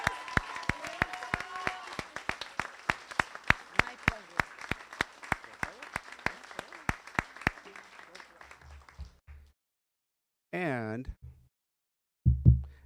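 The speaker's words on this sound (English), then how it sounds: "Let's give her a huge round of applause" At a migrant education speech competition awards ceremony, the audience claps for Esther with sharp, evenly spaced claps that ring out for about seven seconds and then fade, followed by a pause and a few brief spoken words.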